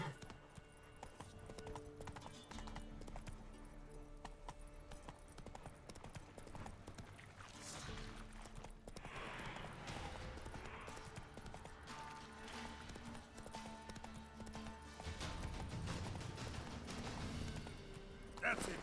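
The horse Roach trots in The Witcher video game, with steady clip-clop hooves that continue over music and ambient game sound while a voice speaks now and then.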